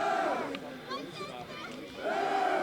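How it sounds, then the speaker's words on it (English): A crowd cheers and shouts at a night high school field hockey game, a distant swell of voices that rises and fades behind a commentator's close talking. "Hear the crowd in the background that we've discussed a few times."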